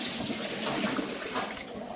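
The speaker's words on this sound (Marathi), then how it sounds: "हे बघा असं 4-5 पाण्याने असं धुवून काढायचे सगळं, ते तांदळाचं डाळींचं हे असतं ते आपण असं धुवून काढू 4-5 पाण्याने" Rice and lentils are washed in water, a steady rushing, sloshing wash of running water that stays moderately loud and even throughout with no voices.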